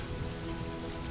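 Steady, gentle rain falls continuously as a soft, even hiss with patter on surfaces, set at night, with no voices and no breaks.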